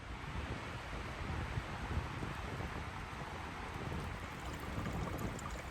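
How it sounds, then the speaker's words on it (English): Storm wind rushes steadily through a rainy Pacific Northwest forest, a constant broadband roar with gusty fluttering and microphone buffeting, fairly faint and with no talking. "that storm is kicking up even more"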